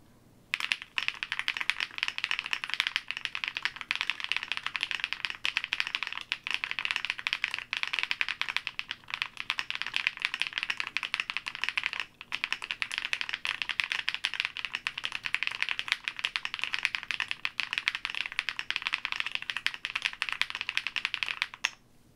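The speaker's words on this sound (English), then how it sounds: "typing test, take two" Fast, continuous typing on a Trio 65 mechanical keyboard with Bigwig switches, dense clacky keystrokes close to the mic with a brief pause midway, steady and loud with no talk.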